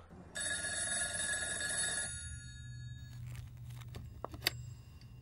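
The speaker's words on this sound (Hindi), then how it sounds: "उस दिन कनरन से मिलने के बाद सादिक कोया का फोन आया" A telephone rings with a bright electronic trill for about two seconds, then stops, followed by faint rustling and a small click.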